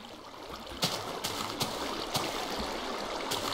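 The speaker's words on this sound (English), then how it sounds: "That's a pretty cool waterfall." A waterfall in Minecraft: steady rushing water fills the clip, a broad continuous wash with a few sharper splashes breaking through, no voices.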